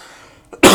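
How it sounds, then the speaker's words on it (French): One sharp, close cough bursts out near the end, preceded by a faint throat sound, otherwise quiet. "Excusez-moi, j'arrête pas de tousser,"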